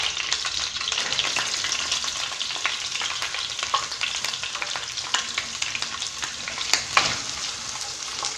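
Thinly sliced onion fries in hot oil with a dense, continuous crackling sizzle and light stirring clicks, close by and without talk.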